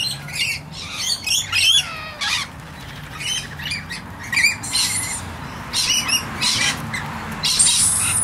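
A flock of rainbow lorikeets at a bird sanctuary screeching close by, with harsh overlapping squawks and shrill chatter in constant busy bursts.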